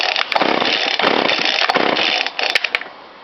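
A small motorized bicycle engine runs nearby with a harsh, buzzing two-stroke rasp that holds steady, dips briefly and then fades out near the end.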